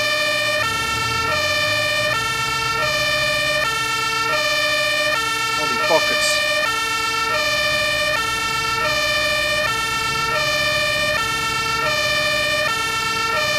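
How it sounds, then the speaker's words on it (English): A fire truck siren in Farming Simulator 22 blares loud and close, a steady stepped two-tone wail cycling evenly under a vehicle's hum. A man briefly exclaims over it. "Now there should be a siren on this as well."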